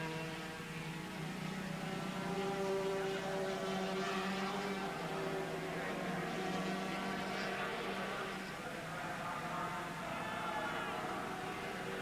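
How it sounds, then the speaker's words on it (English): 250cc two-stroke racing motorcycles, Yamaha TZR 250 and Suzuki RGV 250, in hard racing at Sentul circuit in Indonesia; a continuous buzzing engine drone with shifting pitch, moderately distant, under commentary. "Hard racing from the 250s, and there is still a couple of laps left for them to sort it out."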